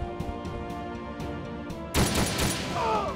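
Gunfire in the handheld tactical game Ghost Recon Shadow Wars: a steady synthetic game tone gives way to a loud burst of rattling shots and crashes, alone with no talk over it.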